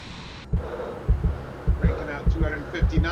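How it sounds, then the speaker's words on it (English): A simulated pilot-panic heartbeat in a Skyward Simulations Citation flight simulator running FS Realistic: regular, deep double thumps repeat steadily over a low cockpit hum. "why does it keep putting on pilot panic? I don't want to hear my heartbeat."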